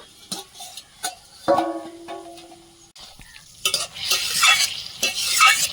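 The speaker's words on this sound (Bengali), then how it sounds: "লাল করে ভেজে নেব হালকা করে দেখে নেব" Cauliflower florets fry with spices in a pan, a close sizzle punctuated by scraping stirs of a spatula, the frying growing louder and hissier toward the end.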